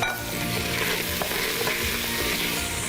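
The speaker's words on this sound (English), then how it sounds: "Stir that up." Meat and vegetables are stirred in a chili pot, a continuous sizzling fry with soft scraping strokes of the spoon and occasional light clicks, close and steady, with no voices.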